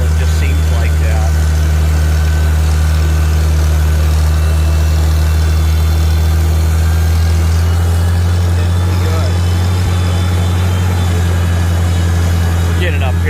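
Farmall 756 tractor engine running steadily in high gear while driving, a loud, constant low diesel drone throughout, with someone talking over it.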